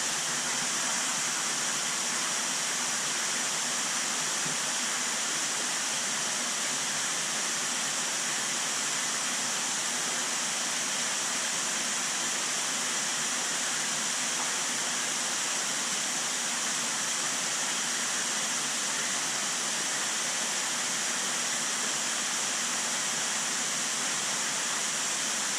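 Water from a waterfall pours steadily into a garden fish pond, a dense, even rushing splash that holds without pause, close and fairly loud, with no voices.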